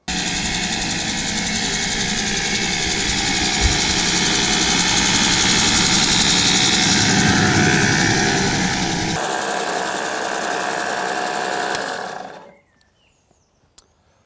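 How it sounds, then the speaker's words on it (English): An Allett cylinder mower fitted with an auxiliary wheel kit cuts long grass with a loud, close engine drone. The tone changes partway through, then the engine cuts out near the end, leaving near-silence broken by a few small clicks. "now as I push the mower forward, the roller isn't rolling over the grass before I get a chance to mow it"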